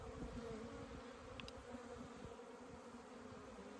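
Honey bees hum in a dense, steady drone over the frames of an open hive during a spring inspection, close and continuous with occasional individual buzzes passing near.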